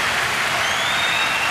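Crowd at a China versus Germany table tennis match at the 2006 world championships erupting in loud, steady applause and cheering, a dense roar filling the space with no speech on top.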